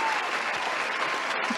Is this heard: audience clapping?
yes